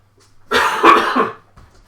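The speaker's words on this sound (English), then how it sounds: "I've got a bit of a cough" One person gives a short, harsh burst of coughing, close to the microphone in a quiet room, then falls silent.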